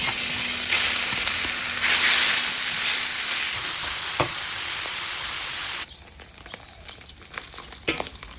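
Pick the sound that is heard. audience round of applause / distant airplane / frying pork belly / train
frying pork belly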